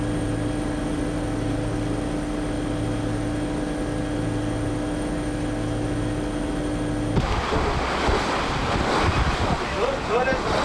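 Sea waves churn behind a moving boat crossing a dense red tide, with a steady engine hum that gives way to louder, rushing wash near the microphone.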